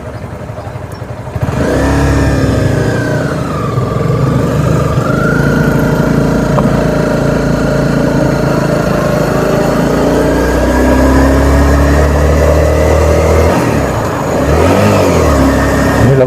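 A motorcycle rides along a country road near a village on a cool morning, its engine starting loud after a brief quiet moment and holding a steady, close drone with slight pitch shifts, dipping briefly near the end before pulling on.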